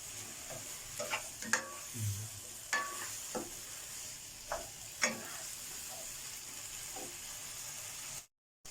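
Chicken stir-fried without oil with onion and fresh garlic, scraping spatula strokes against the pan at irregular intervals over a soft sizzling hiss, close and fairly quiet, cutting off abruptly near the end.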